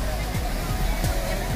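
Steady, dense rush of water from a man-made waterfall at Tad Ku near Paksong in southern Laos, close and continuous, with faint voices murmuring underneath.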